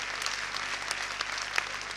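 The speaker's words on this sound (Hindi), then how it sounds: "एक बार हमारी वर्दी के लिए तालियां बजाओ साहब।" An audience applauds at a comedy poetry show in Haryana, a steady wash of clapping heard from a distance at moderate volume, sustained without pause.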